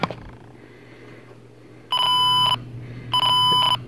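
A Garrett Pro-Pointer AT pinpointer with Z-Lynk wireless sounds from its probe speaker, giving two sharp electronic tones of about half a second each, loud and close.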